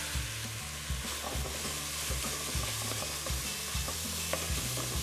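Ginger and garlic stir-fried with salt in a pan, a steady close sizzle with repeated scraping strokes of a utensil stirring through, no voices.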